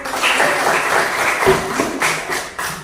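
Students in a classroom applaud after an answer, giving a short burst of scattered, fairly loud clapping with uneven taps and a little background voice activity.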